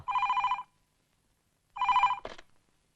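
A telephone bell rings in two clear bursts separated by a pause, loud and close in an Ayurvedic pharmacy office, the second ring cut short as the receiver is picked up with a brief clatter.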